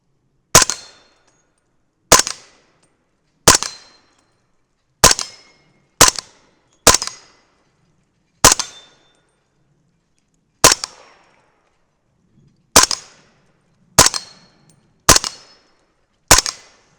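Eleven sharp 300 Blackout rifle shots fired with powder-coated bullets at swinging steel plates, each a loud crack with a short ringing tail, spaced about one to two seconds apart outdoors with no talk.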